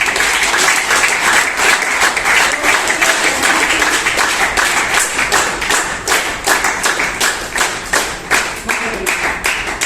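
A crowd gives loud, steady clapping at a refill ceremony during a community shop opening, with sharp individual claps over a dense wash of applause that lasts throughout.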